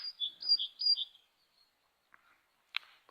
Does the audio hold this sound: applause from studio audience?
no